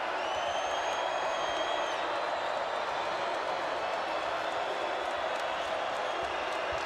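A basketball arena crowd at an NCAA men's game, Colorado State versus Wyoming, roars in a steady, dense wall of cheering that fills the space without letup, with a faint commentator voice underneath.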